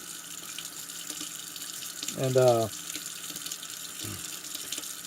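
Water from a tap runs over Remington 1858 revolver parts as they are rinsed, a short, loud gush in the middle followed later by a brief second splash, over a quiet room hum, with a single spoken word.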